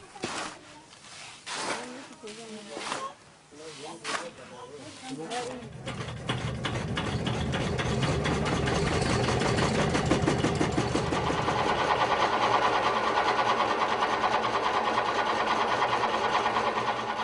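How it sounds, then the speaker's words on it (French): A mill grinds a mix of millet, soy and peanut into fine flour, its steady loud mechanical drone starting about a third of the way in and running on continuously after a stretch of quieter clatter. "C'est alors le passage par le moulin pour obtenir une fine farine."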